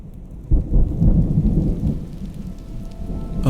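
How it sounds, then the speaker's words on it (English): A thunderstorm brings a deep rolling rumble of thunder that swells and fades over steady rain falling on surfaces, close and full with no voices. "It's just the storm."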